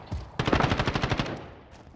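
A Rytec AMR .50 cal rifle fires in Modern Warfare, a fast run of about a dozen loud, evenly spaced booming shots close up that stops abruptly and trails off into a brief echo.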